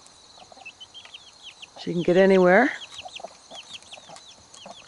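A loud, drawn-out rooster crow rises close by in the middle, while softer hen clucks and chirps carry on before and after it and a voice speaks briefly.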